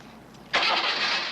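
A Jeep converted to run on solar-made hydrogen fuel with a new carburetor cranks and fires up, a sudden loud catch into a steady running engine after a quiet moment.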